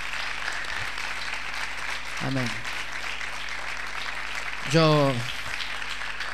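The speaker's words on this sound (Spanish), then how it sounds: "les voy a pedir que nos pongamos de pie, y sí, hagan fuerte aplauso, sí." A church congregation applauds during a worship service, a steady wash of clapping running through the whole clip while someone speaks briefly over it.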